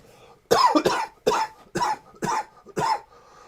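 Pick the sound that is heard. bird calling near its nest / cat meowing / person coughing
person coughing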